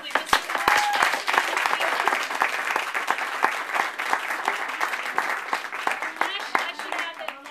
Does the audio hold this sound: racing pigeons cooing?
no